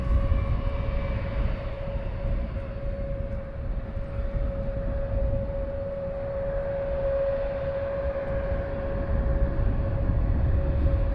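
Jet aircraft engines idle and roll as two Wizz Air planes taxi at Luton Airport, a steady loud broadband rumble with a sustained whine, continuous and close throughout, no talk.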